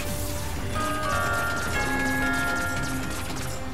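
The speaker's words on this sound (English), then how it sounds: "Shoot or ram the bells to make them ring." Bells ring after being shot or rammed in Skylanders SuperChargers, with bright, overlapping chime tones over a steady, busy game backdrop throughout.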